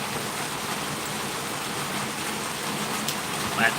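Rain patters steadily on a house roof after morning thunder, a continuous close hiss of drops with a slight swell near the end and no speech.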